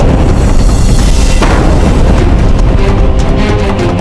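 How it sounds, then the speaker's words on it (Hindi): Mughal cannons firing in a historical battle, a dense, loud, continuous roar of booming blasts that stays heavy and unbroken throughout, with no clear gaps between shots. "वो हम सबको अपनी तोप के गोलों से तबाह कर देगा"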